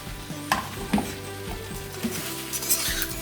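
Rice dropped into a hot pan for chicken fried rice, with a few dull clatters and scrapes over a continuous frying sizzle.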